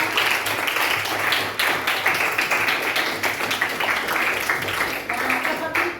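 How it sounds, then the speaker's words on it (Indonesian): Classmates in a school classroom clap together for a few seconds, a dense patter of hand claps with children's voices chattering underneath throughout. "tepuk tangan buat teman-teman"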